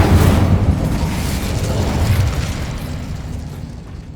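Incendio fire spell in Hogwarts Legacy unleashes a loud, sustained roaring whoosh of flame with crackling bursts, strongest at first and slowly easing off.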